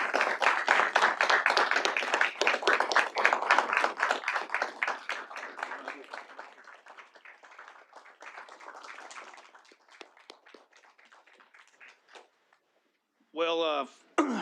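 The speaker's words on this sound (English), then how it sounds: "Let's give him a round of applause." A city board of directors meeting room full of people applauds with dense, steady clapping that gradually thins out and fades, followed by a brief spoken voice at the end.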